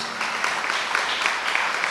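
A crowd at a public stage event claps together in steady, dense applause. It sounds close and continuous throughout, with no voices over it.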